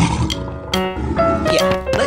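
A lion roars in a few loud, rough bursts, with a deep, growling tone under a busy layer of other sounds.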